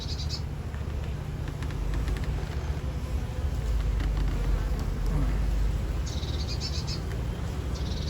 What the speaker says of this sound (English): These are more of these black bees.